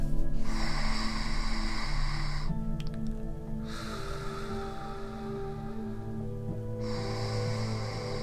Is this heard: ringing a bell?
no